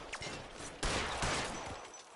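Gunfire in an L.A. Noire shootout comes as a quick volley of sharp, noisy shots, with a loud burst partway through.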